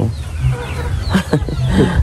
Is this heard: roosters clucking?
yes